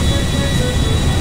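An airplane flies in GTA 5 with a loud, steady engine drone and a rushing airflow roar, continuous and close, with no talk.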